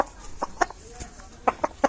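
A sick rooster with a watery right eye gives short, clipped clucks in irregular bursts, close by, with a little faint background noise between calls.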